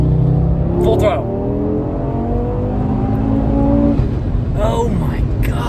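A 2018 Audi RS3 at full throttle, its engine revving hard and climbing through gears with rising harmonic sweeps and sharp shift breaks, loud and close from inside the cabin, with people talking over it.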